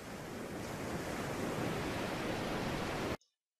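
Continuous broadband rush of ocean surf, steady and fairly loud, ending in an abrupt cut to silence.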